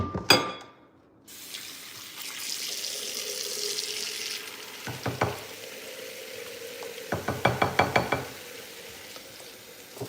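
A dish is quickly rinsed under running kitchen tap water, giving a steady close hiss of flow. It is broken by clattering knocks of crockery in a few short clusters.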